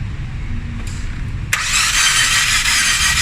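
A gasoline car engine with low compression is cranked and fails to start. A steady, churning starter whir cuts in over a low background rumble and continues to the end.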